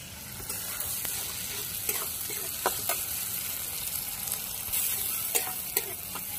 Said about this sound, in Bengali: এবার বেটে রাখা পেঁয়াজ আর লঙ্কাটা দিয়ে দিচ্ছি।